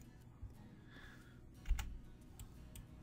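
A computer mouse gives a quick double-click, two faint, tight clicks close together, while someone works in an online image editor. A few soft ticks sit around it in a quiet room.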